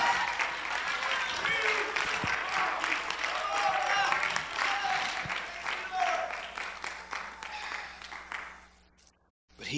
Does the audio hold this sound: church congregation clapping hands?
yes